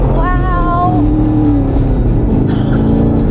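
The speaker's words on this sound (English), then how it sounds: "Kaylee, 2018 Camaro. SS, hold on tight" A 2018 Chevrolet Camaro SS with a seven-speed manual pulls away loudly, its engine note rising through the revs and dropping between gear changes in a steady, close, powerful roar.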